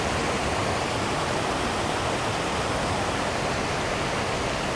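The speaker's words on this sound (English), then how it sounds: "It's a dirty little creek." Water rushing through a small, dirty urban creek at an abandoned railroad spillway under a railroad bridge next to a highway, a loud, steady, unbroken wash of noise with no pauses.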